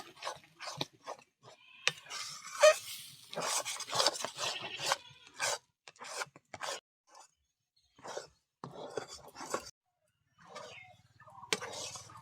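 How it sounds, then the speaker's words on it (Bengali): Grated radish kofta mixture is stirred and scraped in a pan while it dries, producing close, irregular rasping and scraping strokes with short pauses between them. "এইভাবে কিন্তু নাড়তে নাড়তে আমি শুকনো করে নেব"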